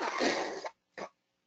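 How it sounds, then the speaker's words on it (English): A long, forceful nose blow, then a short second honk after a brief pause, close and fairly loud. "I got to blow my nose,"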